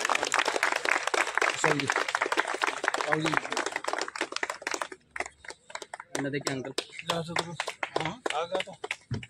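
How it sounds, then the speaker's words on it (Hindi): Audience at a Shri Krishna Gaushala gathering in Ratangarh claps loudly to welcome a visiting Maharaj. Dense, steady applause fills the first half, then voices speak while a few scattered claps continue. "जोरदार तालियों से स्वागत करें।"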